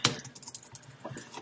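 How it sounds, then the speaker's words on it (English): A few quick, light key presses on a Mac keyboard, a short burst of typing for a shortcut in Photoshop, soft and close with no talking. "Command A, Option G on my keyboard to do a copyright symbol on a Mac in Photoshop"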